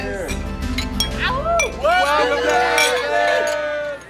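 Glasses clink in a toast at a black-tie barbecue gathering, several bright ringing chinks overlapping with cheerful voices and crowd babble close by.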